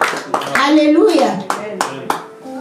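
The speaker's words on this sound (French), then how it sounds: "Applaudis tout pour toi-même." A church congregation claps during a sermon, a few scattered, sharp hand claps breaking through over a dominant voice speaking and exclaiming.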